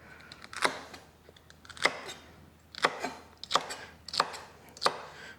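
A knife chops celery stalks into 1.5-inch pieces on a cutting board: six crisp, separate thuds spaced unevenly, close and clear with no talking.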